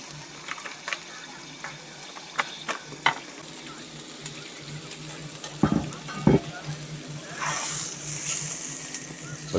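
Steak fries in butter in a pan inside a van, giving a steady soft sizzle broken by sharp clinks and scrapes of utensils, with a brief louder hiss of spatter near the end.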